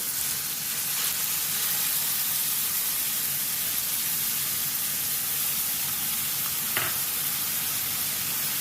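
Onion fries in hot oil in a pan, a dense continuous hiss close up and steady throughout, broken only by a couple of faint clicks, with nobody speaking.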